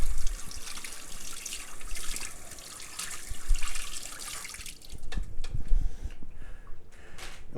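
Kitchen tap water running while cucumbers and dill are washed, a steady close splashing stream that breaks into uneven trickles and drips toward the end.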